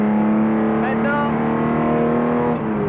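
A 1962 Aston Martin DB4 GT racing at Spa shifts up into fourth gear, its loud onboard engine note holding a steady harmonic drone with a brief dip and climb in pitch at the change.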